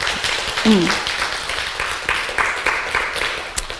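A church congregation claps during a Sunday sermon, a moderate crowd applause spread across the moment, with voices and a brief tonal sound mixed in underneath.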